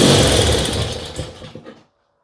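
A small engine with a fuel leak and a worn starter brush runs loudly and roughly close by, sputters a few times as it runs out of petrol, then stalls and falls silent.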